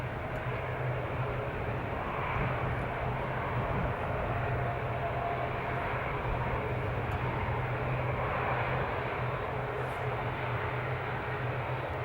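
An Airbus A380 airliner at Amsterdam airport gives a steady, even engine roar that holds at moderate distance without letting up.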